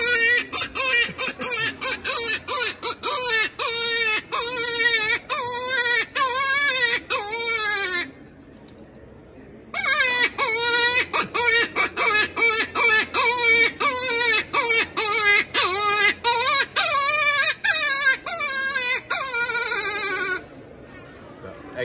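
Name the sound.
rabbit distress call imitated with a game call whistle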